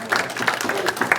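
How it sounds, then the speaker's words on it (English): An audience at a senior center program on scam warnings claps together in a short, dense burst of applause that stays steady and fairly close throughout. "Round of applause."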